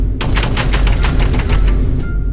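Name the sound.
abstract door-opening sound effect, Minecraft Bed Wars video game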